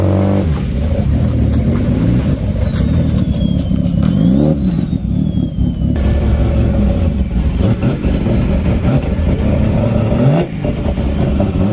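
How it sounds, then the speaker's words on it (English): V8-swapped Mazda Miata revving at a car meet, a loud deep engine roar with repeated throttle blips and rising revs, heard close with crowd and street noise around it. "Sounds like someone's V8 swapped that Miata."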